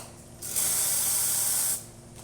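Steam wand on an Alex Duetto espresso machine, freshly serviced, lets out one loud, steady hiss lasting just over a second, then cuts off to quiet hum.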